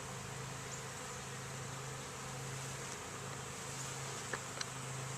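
Bees buzzing around an outdoor hive, a faint steady hum of many insects close by with a few brief clicks near the end, no talk.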